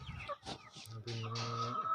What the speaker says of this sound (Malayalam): ഗ്രാമശ്രീ പൂവൻ കോഴി കുഞ്ഞുങ്ങളെ കൊണ്ടുവന്നേക്കാണ്